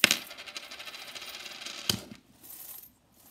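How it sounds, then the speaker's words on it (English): Loose change spills and clinks out of a Fossil handbag, a bright burst of jingling metal followed by a few scattered settling rattles, then quiet. "the next bag is a Fossil bag. Literally just change."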